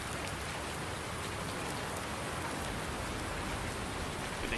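Heavy rain pours down steadily in Farming Simulator 19 with the Seasons mod on the Midwest Horizons map, a dense, even hiss filling the whole stretch with no talking.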